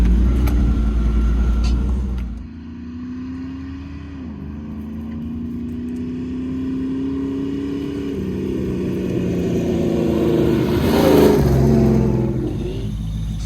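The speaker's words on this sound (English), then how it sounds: "So the truck's idling really good." Engine of an off-road truck, a gold rover, running close by: a low idle drone that rises into a gentle rev, falls back, then climbs again in slow swells.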